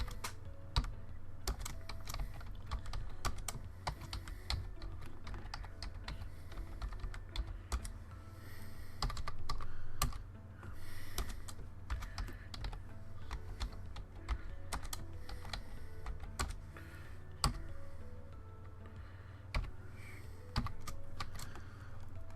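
Steady typing on a computer keyboard while naming a file in Mozaik V14 cabinet design software, with quick clicky keystrokes in irregular bursts and short pauses, close and clear, with no talking.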